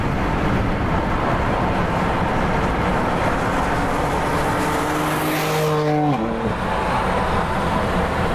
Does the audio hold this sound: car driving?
yes